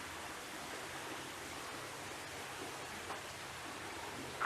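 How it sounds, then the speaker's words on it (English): An indoor waterfall splashes into a koi pond inside a 2.5-storey bungalow in Bukit Gasing, a soft, even rushing of water that continues steadily and quietly, without talk. "This is a serene koi pond with waterfall."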